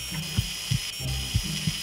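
A surgical bone drill in the Surgeon Simulator game whirs under a steady high-pitched tone, with repeated low mechanical clunks every few tenths of a second, close and fairly loud.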